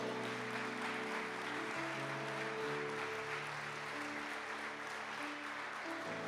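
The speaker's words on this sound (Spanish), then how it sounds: "Dale un fuerte aplauso al rey, por favor." A church congregation applauds continuously, a steady wash of clapping with musical tones sustained underneath.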